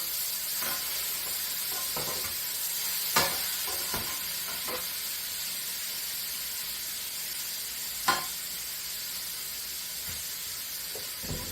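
Pork chops frying in butter in a pan, a steady close sizzle running throughout with a few sharp clatters and thumps as the chops are turned over.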